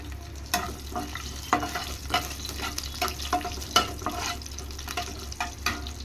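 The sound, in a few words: cumin and dried red chillies frying in oil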